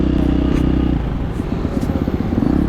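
A Honda dirt bike on a rocky trail in Wellsville, Ohio, its engine loud and close with a steady, uneven running throb.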